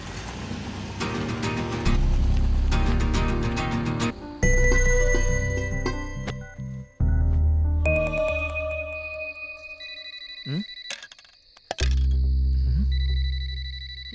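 Mobile phone ringtone going off at home during a meal: a loud electronic melody of bright, repeating tones and chimes that plays alone for the whole stretch.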